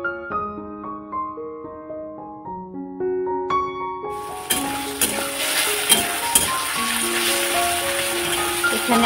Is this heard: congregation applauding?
no